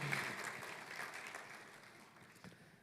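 Church congregation applauding during a Sunday worship service, a soft distant wash of clapping that fades gradually over a few seconds.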